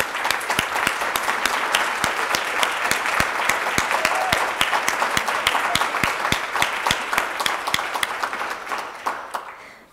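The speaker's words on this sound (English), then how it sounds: "The Conways thank you for the applause." An audience at a university nursing school event applauds a scholarship gift announcement, a dense burst of many hands clapping that holds steady for several seconds, then thins and fades out.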